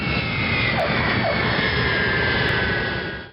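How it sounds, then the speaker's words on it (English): Steady, loud jet roar of a commercial airliner touching down on landing at around 170 miles per hour, a continuous broadband rush with a whining tone that holds for several seconds before cutting off abruptly. "That's what happens when a commercial airliner touches down at around 170 miles per hour."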